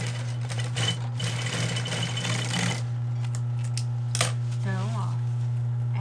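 A sewing machine stitches a pocket onto a 2-in-1 backpack, a close mechanical whir over a steady low hum, followed by scattered clicks and a brief rising whine.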